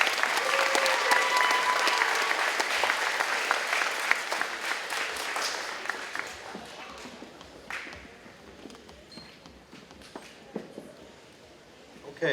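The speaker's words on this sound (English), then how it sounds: "Big round of applause again." A crowd claps for scholarship recipients at a high school awards event. The full, steady applause runs for several seconds and then tapers into sparse claps, shuffling and room noise.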